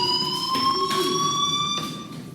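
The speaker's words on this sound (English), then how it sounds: "do you hear that fire alarm?" A school fire alarm in the video game Life is Strange rings as a loud, continuous electronic tone with a faint pulsing beat, sounding alone and unbroken for over two seconds.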